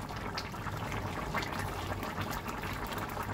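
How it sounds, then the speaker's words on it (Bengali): Curry broth boils in a pot, making a continuous close bubbling and gurgling with a soft, steady simmering texture and no pauses. "ঝোলটা আমার ফুটে গেছে।"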